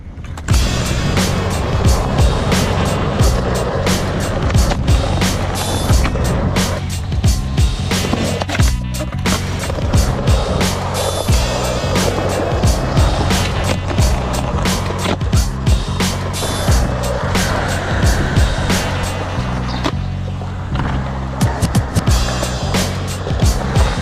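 Skateboard rolling and carving through the transitions of a Bronx skatepark at Van Cortlandt, NYC, with continuous loud wheel roar and repeated sharp clacks and grinds close by throughout.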